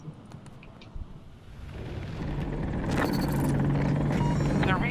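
A helicopter in Battlefield 2042 builds into a loud rumbling rotor roar with blade chop amid battle noise, and voices talk over it.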